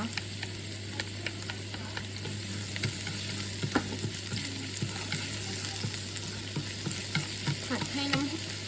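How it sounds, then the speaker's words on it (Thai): Chopped garlic and sliced ginger fry in vegetable oil, producing a steady close sizzle with frequent light scraping taps of a spatula as it is stirred. "น้ำมันพืชนะคะ จากนั้นใส่ กระเทียมนะคะ กระเทียมสับนะคะ แล้วก็ ขิงซอยนะคะ"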